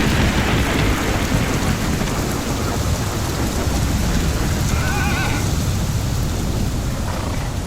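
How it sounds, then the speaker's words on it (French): Stormy weather with steady rain and rumbling thunder fills the scene, a dense, continuous roar that stays loud throughout, with a brief higher whinny-like cry near the end. "Orage!"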